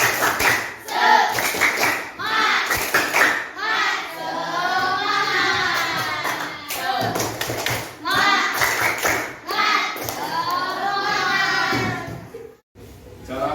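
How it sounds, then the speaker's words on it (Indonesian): A sixth-grade elementary PE class at a floor gymnastics lesson claps together in short bursts, with children's and a teacher's voices carrying over and around the claps. "ya, 2 kali tepuk semangat."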